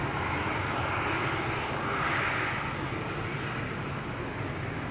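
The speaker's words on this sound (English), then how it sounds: "This is the threshold of runway 18 left. Now one of two runways being used for arrivals." Airplane near the threshold of runway 18 left at Amsterdam Schiphol Airport, a loud steady jet engine roar filling the whole stretch with a slight swell in the middle.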